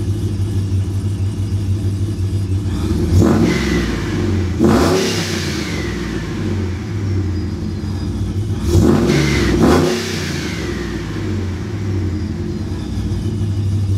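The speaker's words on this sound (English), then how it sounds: "Thing sounds amazing. It's by far, I think, one of the best sounding supercharger I have had today." A supercharged, nitrous-equipped 4th-generation Ram 1500 pickup engine rumbles steadily, then revs up sharply twice, each rev rising to a loud roar before dropping back to idle.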